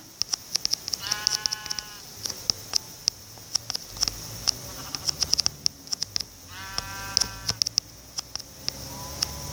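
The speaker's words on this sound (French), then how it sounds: "je vais aller tuer le mouton là-bas" Sheep bleat in Minecraft as one is attacked and killed, two short wavering cries amid rapid sharp clicks of game hits and footsteps over a quiet background.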